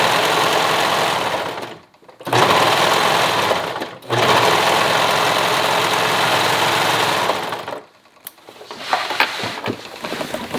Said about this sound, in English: Your sewing machine or serger will be going through 2 layers of elastic